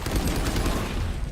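Rapid burst of gunfire in a first-person shooter match, dense overlapping shots packed together loud and close across the whole moment, with no talk over it.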